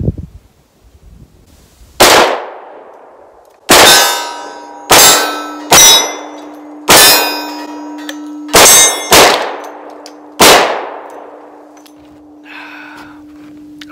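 Springfield XDM Elite 10mm pistol fired at steel targets: seven sharp shots spaced irregularly across the clip, each followed by a ringing metallic clang from struck steel, with a sustained tone lingering between hits.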